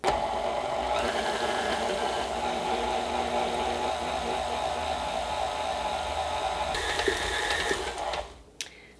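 An electric mixer whirs steadily and close, beating sugar cookie dough for Christmas cutout cookies, a continuous mechanical drone that runs several seconds before winding down to a stop.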